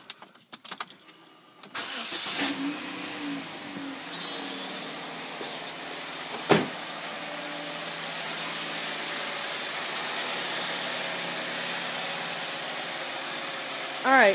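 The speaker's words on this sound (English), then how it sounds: "you're going to want to start it up and listen for, like, see if your motor is vibrating" A Chevy HHR engine cranks and starts after a spark plug change, then settles into a steady idle, following a few seconds of clatter and handling noise; the idle hum continues evenly to the end.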